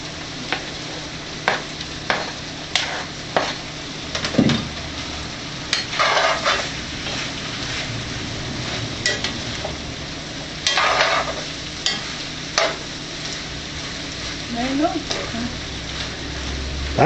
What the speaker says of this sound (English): Patty's going to go ahead and add the tomatoes.